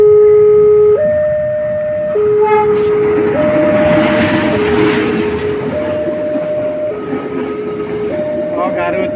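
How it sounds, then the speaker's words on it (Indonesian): Local Cicalengka–Padalarang train passing a level crossing, with the crossing's alternating two-tone warning bells ringing steadily over the rumble of the passing train and faint voices nearby. "Akan melintas nih"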